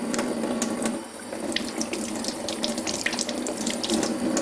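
A kitchen tap runs steadily into a sink while vegetables such as cucumber and salad leaves are washed, a continuous close splashing stream with small bursts of water hitting the produce.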